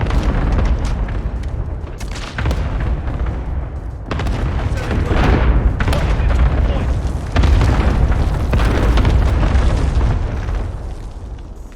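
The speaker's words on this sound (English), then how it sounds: "Enemy cluster strike." Repeated heavy booms and blasts from a cluster strike in the Overwatch 2 shooter game, several bursts in quick succession over a constant loud roar of battle noise, close and forceful throughout.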